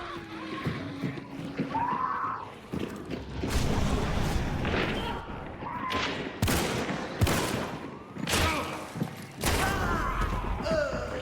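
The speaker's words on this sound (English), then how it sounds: "I'm literally getting shot through walls here." Repeated gunfire in Hunt: Showdown, with loud sharp shots and booming impacts cracking out at irregular intervals over several seconds, some ringing and echoing, with brief talk mixed in.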